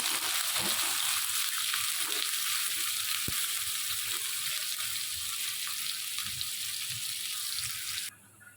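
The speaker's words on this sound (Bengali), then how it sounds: "পেঁয়াজ কুচি দিয়ে পেঁয়াজটাকে একটু ভালোভাবে ভেজে নিতে হবে" Chopped onions frying in hot oil in a pan, giving a steady, even hiss of close sizzling that runs almost unchanged and then drops away at the end.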